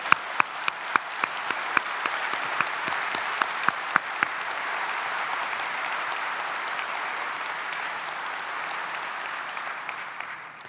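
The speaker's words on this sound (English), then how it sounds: "Please join me in recognizing them with a very warm round of applause." A warm round of applause from a large audience at a surgeons' society presidential address, a few sharp close claps at first, then a dense, steady roar of clapping that carries on and slowly thins out.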